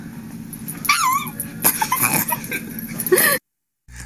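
A grown woman in a dog collar and camo hat imitates a dog with her voice, letting out high squeaky yelps, whimpers and squeals in a loud, close, rapid burst that cuts off abruptly.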